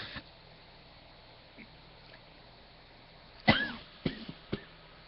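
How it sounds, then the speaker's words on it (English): A single sharp cough rings out close by, followed moments later by a couple of smaller coughs, with quiet background in between. "Had to cough."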